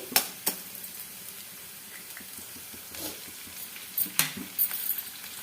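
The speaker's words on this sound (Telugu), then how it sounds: "ఇప్పుడు ఈ ఉల్లిపాయను కూడా కలుపుకుంటూ ఫ్రై చేసుకున్న తర్వాత ఇప్పుడు ఇందులోకి ఎగ్ వేసేసుకోవాలి" Egg and onions frying in a pan for egg rice, a soft, steady sizzle near the mic with occasional stirring clinks and scrapes, a few sharper spatters toward the end.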